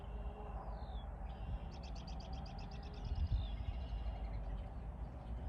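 Several birds chirp and call outdoors, a rapid trilling series standing out over a steady low rumble of wind and distant traffic.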